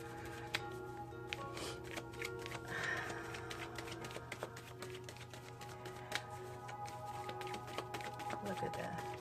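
Soft, steady riffling and clicking of tarot cards being shuffled close by, with occasional sharper snaps over a quiet background hum.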